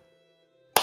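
A single sharp hand clap rings out near the end, close and loud, after a quiet stretch with a faint steady hum.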